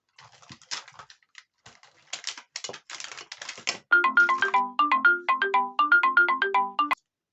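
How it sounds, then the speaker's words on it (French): A phone's melodic ringtone plays loud and close in a repeating pattern of bright notes for about three seconds, preceded by soft tapping and clicking of craft handling. "vous aurez eu quand même un petit peu de sonnerie"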